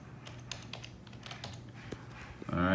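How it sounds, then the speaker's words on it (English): Rapid, irregular keystrokes on a computer keyboard entering an email address, close and moderately quiet, with a brief louder rustle at the end. "you'll type in his email address, or her email address, or whoever's email address you need to type in"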